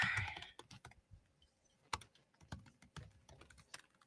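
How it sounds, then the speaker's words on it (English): Clicky computer-keyboard typing comes in irregular close bursts of keystrokes with short pauses, quiet and alone without any talk. "you're gonna hear a lot of me typing and not speaking if I have to do this"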